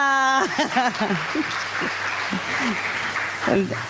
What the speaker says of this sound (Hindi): और जग्गी जी के लिए जोरदार तालियां।